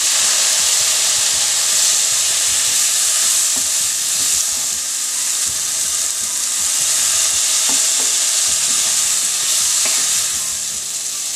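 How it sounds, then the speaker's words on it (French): Okra frying in a pan with chili, salt and spices after a splash of water, giving a steady loud sizzle and hiss with occasional stirring scrapes throughout, no voices. "J'ajoute un peu d'eau pour pas que les épices brûlent."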